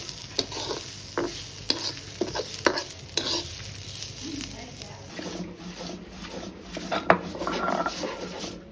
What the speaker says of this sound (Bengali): এখন সবগুলো উপকরণ আরও কিছুক্ষণ তেলের মধ্যে ভেজে নিতে হবে